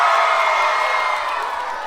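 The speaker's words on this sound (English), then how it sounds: "Let's have a cheer if you like astronomy." A crowd of children cheers loudly and steadily at a school astronomy session, a sustained bright roar that fades slightly toward the end.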